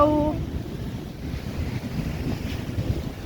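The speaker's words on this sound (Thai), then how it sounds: "นี่คือหาดทรายทะเลสายลมกับสองเรา" Sea waves washing onto a sandy beach in strong wind, a steady rushing roar of surf with gusty wind buffeting the microphone and no voices over it.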